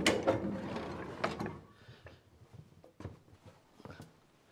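Wooden stave-saw carriage on an 1800s farm sawmill drawn back past a spinning curved blade, giving a burst of rattling, ratcheting mechanical clatter at the start, then scattered knocks and clunks fading to quieter taps.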